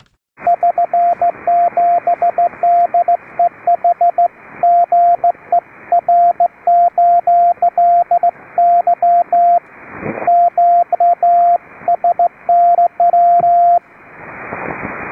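Amateur radio Morse code on the 3729 kHz band: a steady single-pitch CW tone keyed in rapid dots and dashes for about fourteen seconds, loud and clean, with brief pauses between groups and a burst of static at the end.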